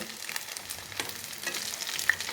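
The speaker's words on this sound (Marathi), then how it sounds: "त्याच तेलामध्ये आता मी डाळबट्टी तळून घ्यायला लागले" Dal batti fries in hot oil that was just used for Manchurian, giving a close, continuous sizzle and crackle with occasional sharper pops and no talking.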